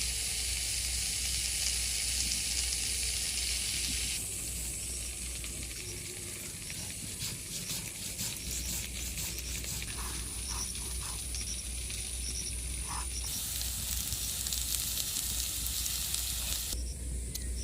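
Jackfruit seeds and potatoes with a little turmeric fry in a pan, a continuous hissing sizzle that runs steadily throughout, fairly quiet, with faint kitchen clatter in the background.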